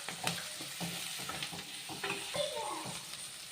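Onions and garlic frying in a pan for a Chettinad-style vegetarian fish curry, a steady sizzle with repeated stirring scrapes and clicks throughout, close and moderately loud.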